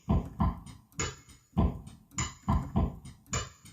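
Homemade drum kit built from football sound samples, playing a steady looped beat: thumping low kick-like hits alternating with brighter slaps and hissy hat-like ticks in a regular pattern, close and clean with no voices.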